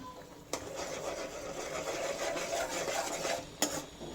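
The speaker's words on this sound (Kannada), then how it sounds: "ನಾನು ಆವಾಗಲೇ ಹುರಿದಿಟ್ಕೊಂಡಿರೋಂಥ ಓಟ್ಸ್ನ ಹಾಕ್ತಾ ಇದ್ದೀನಿ" Pre-roasted oats go into a pan and are stirred, a soft scraping rasp of a utensil against metal running steadily, with two sharp clinks of the spoon striking the pan's rim at start and end.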